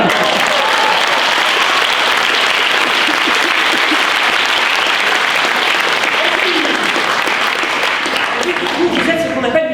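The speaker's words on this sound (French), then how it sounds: "Merci, on peut l'applaudir." Sustained audience applause fills a hall at the final of a university eloquence contest, dense and steady clapping from a large crowd, holding loud for nearly ten seconds before thinning slightly at the end.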